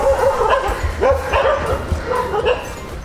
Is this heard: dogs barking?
yes